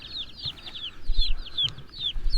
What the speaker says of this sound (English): The boys are gathering up all the chickens now, putting them away.